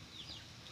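A hen clucking faintly in a short soft burst, with a thin high chirp over it, heard at some distance and quiet.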